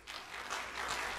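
Brief, faint audience applause at a panel discussion during a conference, a soft wash of clapping lasting only a moment.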